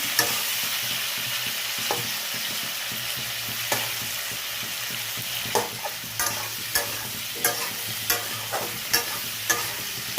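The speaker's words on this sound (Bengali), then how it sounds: "একটু ভাজাভাজি করে নিই, তারপরে মশলা দেবো" Potato and papaya pieces for a curry fry with a constant sizzle in a pan, while a spatula scrapes and knocks in a quickening series of sharp strokes near the end; nobody speaks.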